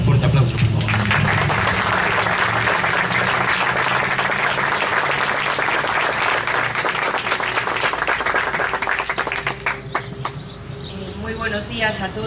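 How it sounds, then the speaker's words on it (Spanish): Loud audience applause at a memorial event for Ignacio Echeverría with terrorism victims' representatives, steady dense clapping that thins and fades near the end as a voice begins over the room. "Un fuerte aplauso, por favor."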